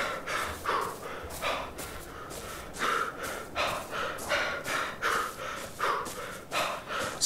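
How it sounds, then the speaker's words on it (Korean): A character in ARK: Survival of the Fittest pants from exhausted stamina, rhythmic heavy breaths and gasps repeating about once a second, fairly faint and alone. "스태미나 왜 이러니? 왜 이래 헉헉거리니?"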